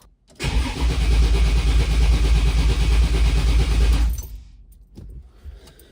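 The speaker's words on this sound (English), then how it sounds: "Now watch, when I crank, what should happen is for a split second, it should go to cranking" A 482 Oldsmobile engine in a 1971 Cutlass cranks loudly and steadily for about four seconds without catching, then stops, leaving faint clicks and shuffling.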